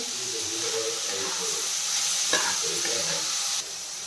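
Moth bean usal being stirred after salt goes into the pan, with a steady hissing sizzle and soft scraping of the spoon, one brief clink near the middle, and the sound dropping slightly toward the end.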